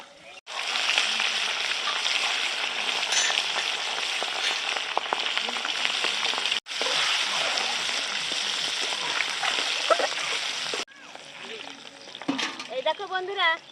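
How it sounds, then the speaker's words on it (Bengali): Eggs seasoned with salt and turmeric fry in hot oil in a wok, a steady close sizzle and crackle holding for about thirteen seconds, broken by two brief drops, with faint clinks near the end. "এবার ভেজে নিচ্ছি একে একে"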